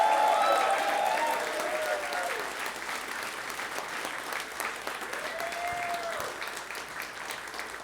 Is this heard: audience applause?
yes